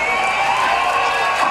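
A large outdoor rally crowd in Berlin cheers and shouts, a dense, continuous roar of many voices filling the space, loud and sustained.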